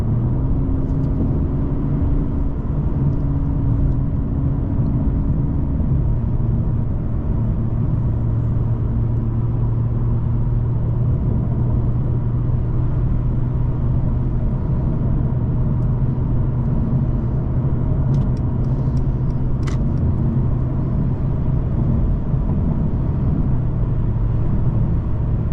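A 2019 Mercedes-Benz CLS450 4MATIC pulls away and cruises under light throttle, a smooth, muted engine hum and road rumble heard steadily from inside the cabin for the whole stretch.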